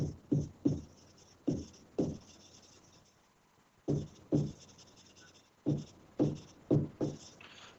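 Chalk or marker strokes on a board in a class 12 maths lesson, a series of short scratchy bursts in irregular clusters with a quiet pause in the middle, close and alone.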